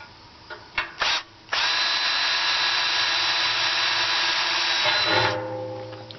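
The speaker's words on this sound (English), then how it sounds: "I'm just drilling smaller holes first." Two quick trigger pulses of an electric drill drilling small holes in metal for a barrel stove kit lead into a sustained, high whine lasting several seconds, then the motor winds down.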